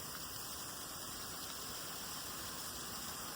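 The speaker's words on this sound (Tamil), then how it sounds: "மழை அடிச்சு தள்ளிக்கிட்டு இருக்குங்க" Heavy rain pours steadily at a bus stop near Marina Bay, a dense, unbroken hiss of water that stays loud and even throughout with no voices over it.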